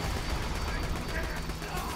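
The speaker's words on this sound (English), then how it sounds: "Why am I trying to shoot something flying with a shotgun?" Shotgun fire in Borderlands 2 against a flying target, rapid blasts blended into a dense, steady wash of game noise lasting about two seconds.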